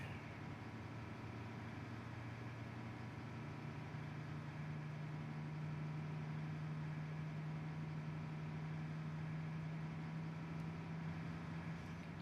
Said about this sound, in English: Engine 2 spinning.